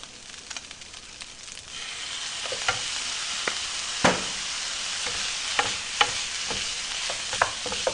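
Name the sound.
stir-frying kimchi fried rice after adding soy sauce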